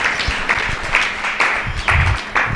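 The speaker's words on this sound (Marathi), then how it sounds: "म्हणून मोठ्याने टाळ्या वाजवून प्रभू येशूला धन्यवाद द्या" Congregation at a Marathi prayer meeting in a Naigaon prayer house clapping loudly in uneven bursts, a steady wash of hand claps throughout with no speech over it.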